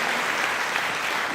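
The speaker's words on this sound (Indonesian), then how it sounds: "tepuk tangan buat Tuhan kita" A church congregation claps together in a dense, steady burst of applause, filling the room for a short moment with no voice over it.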